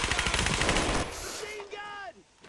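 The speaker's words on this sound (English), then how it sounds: "Oh, yep, that was a machine gun," Rapid machine gun fire rattles in the video game Brothers in Arms: Road to Hill 30, a loud dense burst for about a second, then quieter game sounds and a brief voice.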